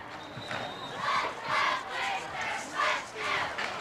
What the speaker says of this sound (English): You can hear the crowd trying to get us in.